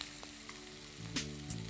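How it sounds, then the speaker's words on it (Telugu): Cabbage and carrot fry in hot oil in a home kitchen pan, a steady close sizzle with a brief louder crackle as the vegetables are stirred. "సో దీనిలో ఇప్పుడు మనం కొంచెం క్యాబేజ్ వేసుకుందాం, క్యారెట్ వేసుకుందాం."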